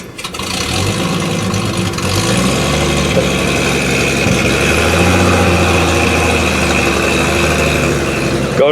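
An old Chevy truck with a three-on-the-tree column shifter pulls away, its engine running loud and steady with a low, continuous drone that rises slightly as it gets moving.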